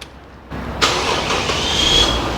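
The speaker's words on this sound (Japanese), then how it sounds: "まず一つがエンジンのかかりのところ、 一回切ってもう一回やりますけど" A Toyota Chaser Tourer V JZX100 with a turbocharged 1JZ-GTE engine cranks briefly, then catches and fires, settling into a close, steady idle with a faint high whine.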